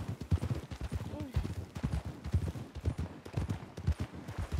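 A mare's hooves in Red Dead Redemption II clop in a rapid, uneven rhythm close by, running under steady conversation in Spanish.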